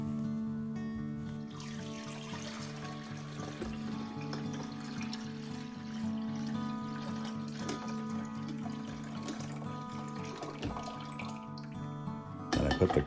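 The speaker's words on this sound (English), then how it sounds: "I pour the water into the back reservoir" Water poured from a carafe into the back reservoir of a drip coffee maker, a steady trickling, splashing stream with a faint hollow ring, followed by a brief louder plastic clunk at the end.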